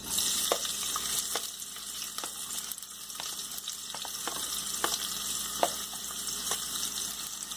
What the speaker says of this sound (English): Now oil is heated, then we have to add onions.